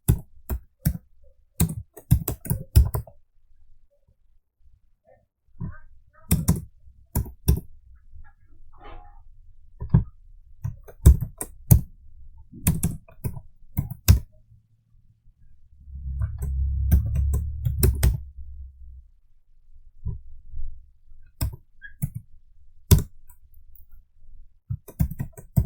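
Sharp clicks of a computer keyboard as HTML code is typed, coming in scattered bursts and single taps with quiet gaps, close and clear, with a brief low rumble partway through.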